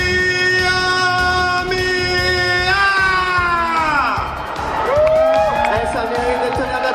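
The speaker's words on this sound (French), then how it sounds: "Ça mérite de tenir d'applaudissements" Live audience at a Lille geek event crowd cheering and whooping loudly over sustained music-like tones, continuous and close for the whole stretch with no clear gaps.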